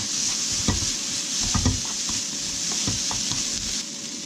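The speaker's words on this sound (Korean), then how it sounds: "참기름 넣고 불을 줄여서 달달 볶아요" Bellflower root namul stir-frying in sesame oil over low heat, with a steady soft sizzle and repeated scrapes and clacks of a utensil stirring against the pan, close and continuous.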